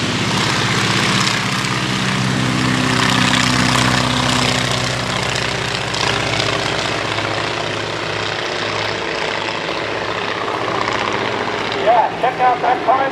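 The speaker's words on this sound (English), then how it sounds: "takeoff time for the Fokker triplane" A Fokker triplane takes off at an old airfield, its engine a loud, steady propeller roar that gradually fades into the distance while a voice talks over it.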